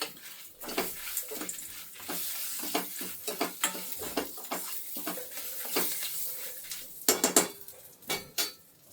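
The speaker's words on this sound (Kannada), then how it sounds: "ಆ ಮೆಣಸಿನ್ಕಾಯಿ ಎಲ್ಲ ಕರಿಬೇವೆಲ್ಲ ರೋಸ್ಟ್ ಆಗೋವರೆಗೂ ಒಂದು ಸ್ವಲ್ಪ ಹುರ್ಕೋಬೇಕು" Chillies and curry leaves roasting with turmeric in a pan give repeated metallic scraping and clinking of a spatula against the pan, with a light sizzle underneath, close and irregular.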